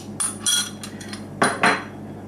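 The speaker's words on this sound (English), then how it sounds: "Mix those 2 ingredients so they're really well combined" A spoon or whisk clinking against a bowl while flour and baking powder are mixed together, a few quick scraping taps close by, with no talking.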